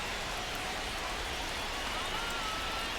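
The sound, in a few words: rain falling at ballpark in MLB The Show 25 video game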